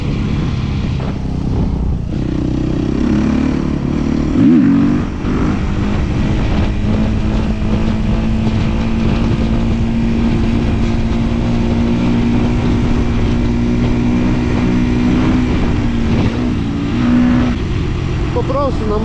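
A motorcycle engine drones steadily while riding, with a sustained tone and a brief rise in revs early on, and someone talks over it.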